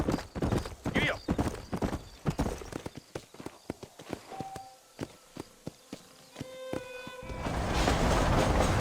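Horse hooves in Red Dead Redemption trot in a close, even rhythm of sharp clip-clops, and the sound swells into a denser rush toward the end, with brief talk early on.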